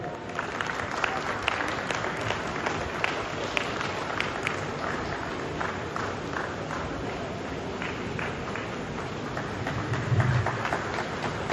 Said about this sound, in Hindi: कृपया जोरदार ताली बजाएं।